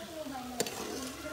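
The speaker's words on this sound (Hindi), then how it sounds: "भूनते जाएंगे।" Ingredients frying and being stirred in a pan while sugar melts, a faint soft sizzle with one sharp utensil scrape midway, brief and quiet.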